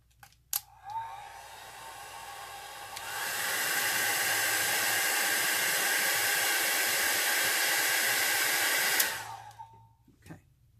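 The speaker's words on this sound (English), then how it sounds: "let me just dry this center a little bit" A hair dryer blows steadily for about six seconds to dry the center of an alcohol ink flower, loud and close, rising and then cutting off, with faint handling clicks before and after.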